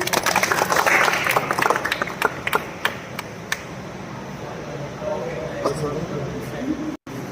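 A small crowd claps at a village gym opening in Punjab, a dense burst of applause that thins to a few scattered claps, with people talking throughout.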